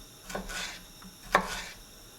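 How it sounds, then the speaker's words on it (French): A knife slices a bell pepper into strips on a board, giving two soft cutting strokes and a light tap, close and quiet with nothing else heard. "pour venir faire des lanières dans le poivron"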